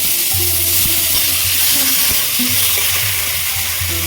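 Cumin seeds temper in hot oil for a Bengali chutney, giving a dense, continuous sizzle and crackle close up, alone and steady throughout.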